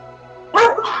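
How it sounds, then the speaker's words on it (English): A single dog gives a loud, close bark of two quick yelps, breaking into a quiet indoor yoga session with a faint steady hum beneath. "Is that another dog barking?"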